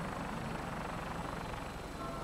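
An aircraft in the Fallout 4 video game drones steadily overhead, a broad, constant engine hum with a slight pulsing throb that holds at an even level throughout.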